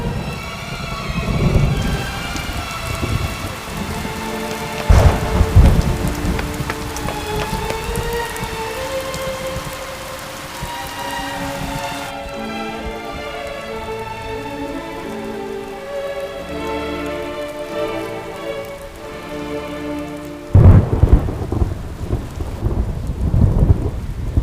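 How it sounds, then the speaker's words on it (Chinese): Steady rain falls through a thunderstorm in a Chinese TV drama scene, with heavy thunder cracks near the start and again near the end, and a sustained musical score running underneath throughout. "彬彬，下雨了，早点走吧。"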